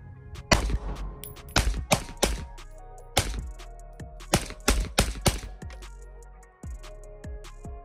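Suppressed shots from a PSA Sabre 11.5-inch rifle fitted with a SilencerCo Velos LBP can, about a dozen sharp cracks fired in quick irregular bursts, loud and close, each leaving a short ringing tail.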